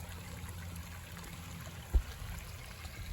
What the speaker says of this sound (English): can see the water flowing